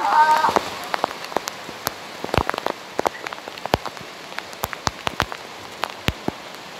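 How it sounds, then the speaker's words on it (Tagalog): Steady rain hisses with many sharp drops tapping nearby surfaces in an irregular patter, close and moderately loud, with a brief voice at the start. "Baha! Lakas ang ulan."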